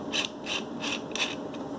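A portable oudh gas lighter for a bakhoor burner gives about five quick, raspy clicks in a steady rhythm, close and fairly quiet.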